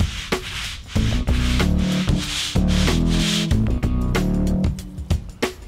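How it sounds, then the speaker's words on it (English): A stiff hand brush scrubs a driveway in repeated strokes with brief pauses between them, loud and close, while a few people chat lightly nearby. "Keep scrubbing"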